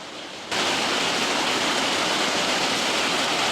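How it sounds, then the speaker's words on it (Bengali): Heavy rain pours outside as a dense, loud, even hiss. It switches on suddenly after a brief quieter moment and then holds steady throughout with no voices. "পুরো ঝাঁপিয়ে বৃষ্টি হচ্ছে"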